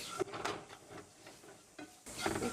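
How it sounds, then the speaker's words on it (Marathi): Jackfruit vegetable with garam masala and salt being stir-fried in a pan: quiet, irregular scrapes and stirring strokes over a faint sizzle, with a louder burst near the end. "मी परत परतून घेतोय"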